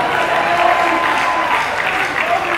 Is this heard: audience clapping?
yes